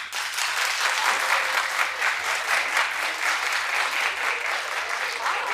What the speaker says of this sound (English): clap if you're participating in Galentine's Day.